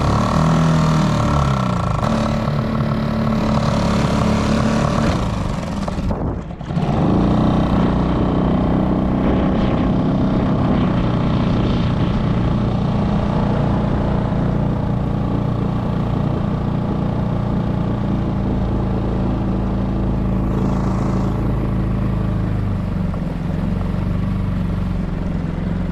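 An outboard motor runs steadily on a solo skiff with a tiller extension, a loud, close, continuous drone that cuts out briefly near the start before carrying on, with no talking.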